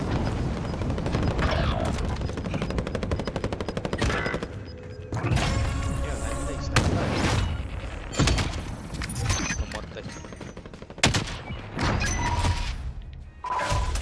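Gunfire in the video game Call of Duty Warzone: loud bursts of automatic fire and sharp single shots with thuds, scattered across the scene alongside someone talking.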